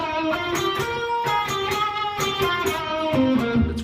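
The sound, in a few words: guitar harmony twiddle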